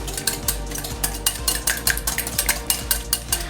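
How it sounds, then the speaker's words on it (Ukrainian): Rapid metallic clinking of a whisk against a bowl while beating crepe batter smooth, a steady brisk rhythm, close and continuous with no talking. "І збиваємо вінчиком до однорідної маси."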